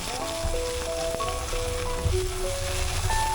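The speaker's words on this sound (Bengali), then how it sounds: "এবার আমরা এটাকে পুরোপুরি ভাজা ভাজা করে ফেলবো" Sliced soybean fruit and potatoes fry in a pan with a soft, continuous sizzle, partly overlaid by a gentle melodic tune.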